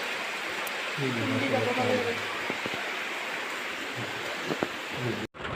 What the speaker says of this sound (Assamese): এইয়া চাওক বৰষুণ আৰম্ভ হ'লেই